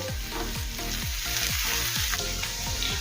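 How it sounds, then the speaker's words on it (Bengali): Ginger, garlic and onion sizzle in a pan for paneer bhurji, a constant close frying hiss with regular stirring scrapes and knocks repeating about twice a second throughout. "আবারও কিছুক্ষণ সময় নিয়ে আদা রসুন পেঁয়াজের সাথে একটু ভেজে নেব"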